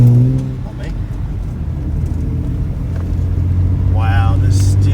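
A BA Ford Falcon fitted with new coilovers and steering knuckles drives along with a steady low engine rumble and road noise that builds gradually. Voices talk briefly at the start and near the end.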